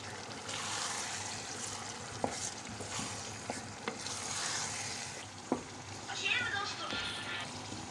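Tomato and pepper paste sauce with fresh tomatoes coming to a boil in a pan, a steady bubbling sizzle with a few sharp clinks of a spoon against the pan, close and constant.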